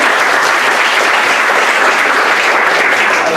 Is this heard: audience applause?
yes